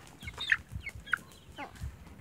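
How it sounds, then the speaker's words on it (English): A chicken clucks in a few short, soft, close calls, scattered over low background rustling, with no talking. "Oh, don't let the chicken go."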